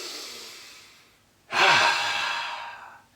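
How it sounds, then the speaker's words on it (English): A person draws a deep breath, a long audible inhale followed by a strong, airy exhale, close and unaccompanied. "So take a deep breath."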